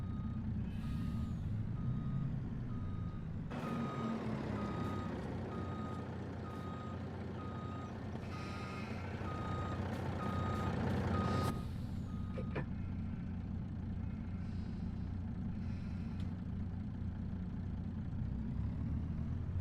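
A truck reverses in a sheep-farming video game, its steady backup beeps pulsing over a rumbling engine, with hisses of air brakes and no talking.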